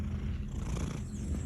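A house cat purrs in a steady, continuous low rumble, close and soft, with no voices over it.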